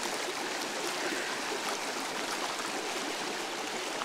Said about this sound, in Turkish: Ayaklarımı yıkayayım.